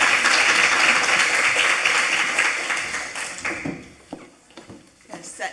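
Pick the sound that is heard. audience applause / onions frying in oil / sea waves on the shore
audience applause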